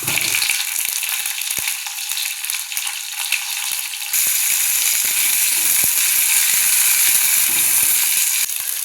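Eggplant sizzling steadily in a hot pan with chillies while cooking a village-style dry fish curry, a continuous close crackling fry that grows louder and brighter partway through, with no talking.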